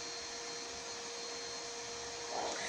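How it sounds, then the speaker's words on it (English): A household vacuum cleaner running indoors, a steady loud whining drone with a constant tonal hum that holds throughout, slightly swelling near the end, with no talk over it. "He don't hear me cause the vacuum is on right now."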